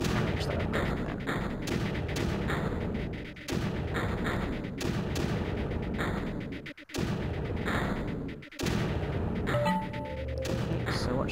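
Mortars firing in the strategy game Creeper World, with dense rapid volleys of thumping booms that keep up a near-continuous barrage, loud and close, briefly dropping out twice before resuming.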